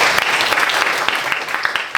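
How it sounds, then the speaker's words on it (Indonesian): Classroom applause during a teaching session: a short burst of steady, dense clapping from a group of students, close and fairly loud throughout with no talk over it. "Silakan beri tepuk tangan dulu buat kita."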